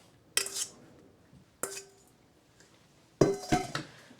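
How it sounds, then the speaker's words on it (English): Mixture being scraped and tapped into a 9x13 pan with a utensil, giving three separate metallic clinks and scrapes with short pauses between them, close and fairly quiet. "Now put it in the 9x13 pan."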